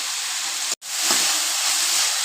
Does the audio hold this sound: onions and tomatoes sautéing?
yes